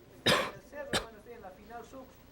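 A miner coughs twice: two sharp, harsh coughs about half a second apart. Quieter throaty sounds and faint voiced murmuring follow, all fairly soft.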